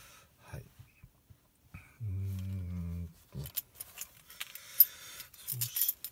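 Light metallic jangling from a BMW E87 116 car key inside the car, sparse clinks and rattles scattered throughout, with a steady humming tone in the middle.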